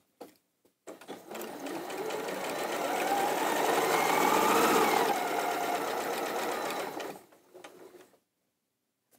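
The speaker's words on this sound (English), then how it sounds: "And I'd sew right off the edge of the square." A sewing machine stitches a quilt seam through printed cotton fabric squares, running off the edge of the square for a Moda kimono quilt. The motor whirs steadily for about seven seconds, swelling and easing off, with no talking.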